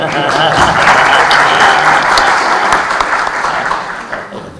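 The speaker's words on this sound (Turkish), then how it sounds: "Yalnız hocam bu alkışlar sizeydi." A panel audience at Selçuk University bursts into loud, close applause for the speaker, with the clapping strong at first and gradually thinning toward the end.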